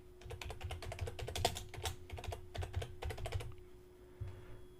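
Fast, uneven keystrokes clatter on a computer keyboard, close and fairly quiet, in short bursts with a few pauses before trailing off, alone with no voices.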